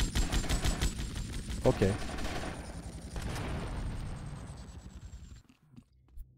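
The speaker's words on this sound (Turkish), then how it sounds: "Bu adamı vuruyorum, ölmüyor." A player shoots an enemy in GTA Vice City Definitive Edition: rapid automatic gunfire crackles loudly for a few seconds, then trails off into a fading tail and near silence, with someone speaking briefly over it.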